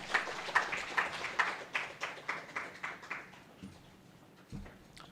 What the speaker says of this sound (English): let's give Professor Muller a big round of applause